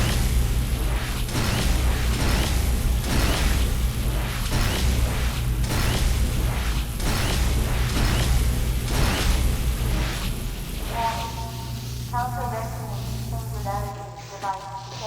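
Half-Life 2 confiscation field stripping away weapons, a heavy rhythmic mechanical pulsing with low rumbling bursts repeating for several seconds, then fading into thinner electronic warbling tones near the end.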